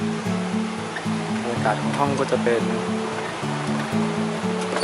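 A mountain stream flows beside a guesthouse room at the Tin Tok Royal Project in Mae On, Chiang Mai, giving a steady rushing hiss close by while someone talks over it throughout.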